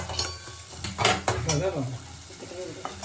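Moringa drumsticks sautéing in oil for a village-style sweet-and-sour curry, with short scraping stirs and clinks of a spoon against the pan over a low, steady sizzle.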